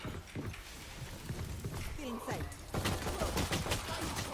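Rapid gunfire bursts from the Valorant video game crackle through a busy, dense mix, with repeated sharp shots layered over game effects and background chatter.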